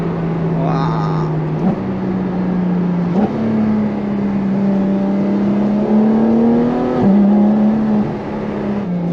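A Ferrari F12 TDF's front-mounted V12 pulls hard through the gears, its loud, steady engine note rising and dropping sharply at each of several quick shifts, heard close from inside the car.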